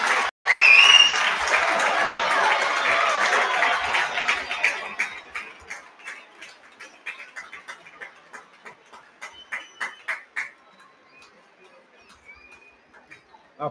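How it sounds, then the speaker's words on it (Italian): Applause from fans at a Napoli football training session in Castel di Sangro, a loud burst of clapping that thins into scattered claps and fades toward the end. "Applausi a scena aperta per Picia Quaraschelia."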